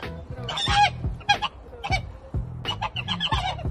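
A pet goose honks several times in a row as it greets its grandmother owner after months apart, loud, close and harsh in short repeated bursts with brief pauses between calls.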